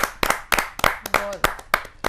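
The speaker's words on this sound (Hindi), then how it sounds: "जोरदार ताली के साथ उनका स्वागत करें" Sparse, uneven claps from a small audience welcoming a poet at a Hindi kavi sammelan, a handful of distinct hand claps with a brief voice between them.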